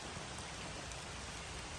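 Rain patters steadily on a parked minivan, a dense, even hiss of drops striking the roof and body heard from inside, moderately loud and unbroken, with no voices.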